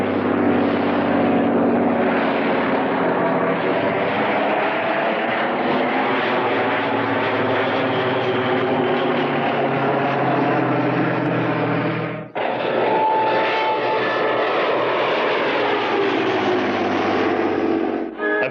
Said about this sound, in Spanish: Escuchen el sonido de este Falcon 12 cilindros, 260 caballos.